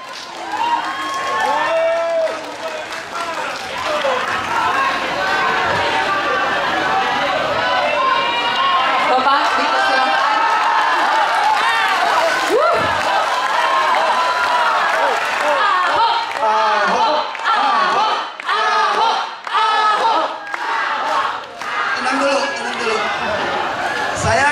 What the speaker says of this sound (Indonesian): kita kasih tepuk tangan yang semangat Bapak Ahok.